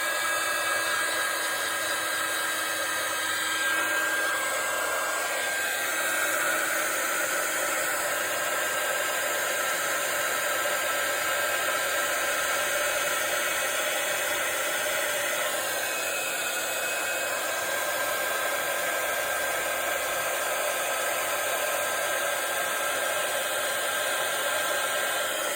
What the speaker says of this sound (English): So then I just need a heat gun, so there'll be a bit of noise